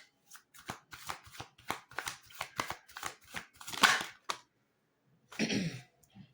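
Tarot cards handled and drawn from a deck at close range, a quick run of soft riffling flicks and slaps, then a pause and one brief shuffle burst at the end.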